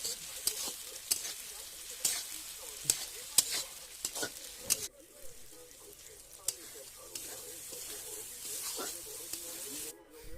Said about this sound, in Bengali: লঙ্কা বাটাটা ভালো করে হালকা করে নেড়ে নেবো